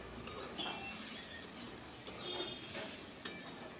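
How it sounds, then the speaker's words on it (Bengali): Broken-wheat (dalia) khichuri being stirred and fried in a pot, with light utensil clinks against the metal and a soft background sizzle, fairly quiet and close. "আরও খানিকক্ষণ কষিয়ে নেব।"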